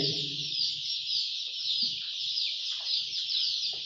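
Young poultry chicks in a brooder peep in a constant, shrill chorus, with a few lower clucks near the start and faint scattered rustling underneath.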